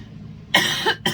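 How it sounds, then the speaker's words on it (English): A person's cough comes as two or three loud, close bursts, starting about halfway in after quiet room tone. "every time I get on it, either have the sniffles or a cough"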